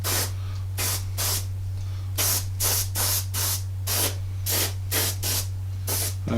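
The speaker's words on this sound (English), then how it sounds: "so we can just literally airbrush this in" An airbrush sprays thinned Indian ink onto a 1/32 Revell He111 model kit in short hissing bursts of about half a second, repeated at irregular intervals, close and steady, over a constant low electrical hum.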